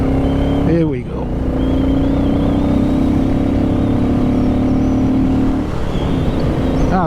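A Royal Enfield-style Classic 350 motorcycle pulls out and accelerates to overtake on the road, a steady rising engine drone running close and loud throughout, with brief talk over it near the start.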